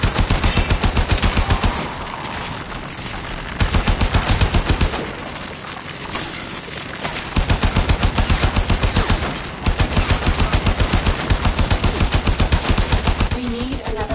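Enemy gunfire in a video game battle around a powered excavator: loud, rapid bursts of shots repeat steadily, with two brief lulls where the firing drops away before resuming.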